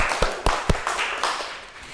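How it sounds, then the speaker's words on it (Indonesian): A classroom group claps hands during a microteaching lesson, a few sharp, uneven claps followed by softer scattered clapping with a noisy room in the background. "tepuk tangan yuk"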